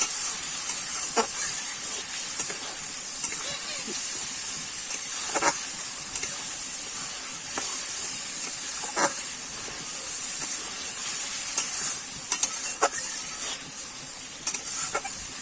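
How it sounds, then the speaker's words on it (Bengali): Water poured onto a dry spice paste frying in a hot pan for Bengali rupchanda fish curry, giving a continuous steamy hiss and sizzle with intermittent spatula scrapes and taps throughout. "আর একটুখানি আমি কিন্তু জল দিয়ে দিচ্ছি জল দিয়ে শুকনো মশলাটা কিন্তু কষিয়ে নেব"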